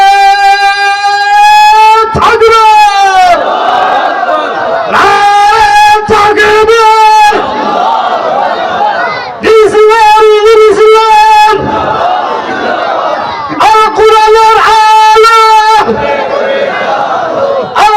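A large gathering at a religious sermon in Sylhet loudly chants the takbir, Allahu Akbar, in repeated rhythmic unison bursts with short pauses between them. The chant answers a leader's call and sounds close and powerful.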